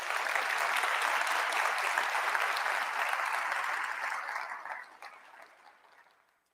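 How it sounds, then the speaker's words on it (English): An audience at a TheoEd talk event gives a big round of applause. Dense clapping holds steady for several seconds, then thins and fades away to silence. "join me in a big round of applause for all those who have helped make TheoEd possible"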